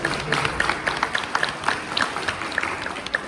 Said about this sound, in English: give Dean Rodriguez a big round of applause